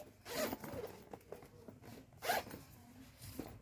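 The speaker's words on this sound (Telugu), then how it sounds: "ఇది బయటికి తీస్తేనే అది జిప్ ఓపెన్ చేయడానికి వస్తుంది" A handbag zipper is pulled open in two quick rasping runs, close and fairly quiet, with small handling rustles between them and no talking.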